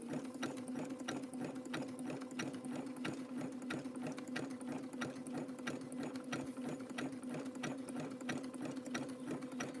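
A sewing machine with a size 14 universal needle stitches rope and fabric in one long, steady run, a fast even rattle of needle strokes close up and uninterrupted.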